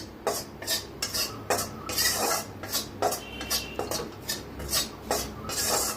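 A spice mix for stuffed capsicum is dry-roasted in a pan, giving rhythmic dry scraping and rasping strokes, roughly a dozen over six seconds, close and fairly loud with no talking.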